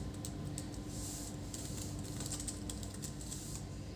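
Keys tapped on a replacement keyboard in an HP ProBook 450 G6 laptop, a quick, irregular run of close, light clicks continuing steadily without talk.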